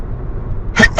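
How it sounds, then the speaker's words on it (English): A single short sneeze bursts out near the end, loud and close, breaking a moment of quiet room tone at a desk during a spreadsheet tutorial. "I'm not deleting the video for that little sneeze"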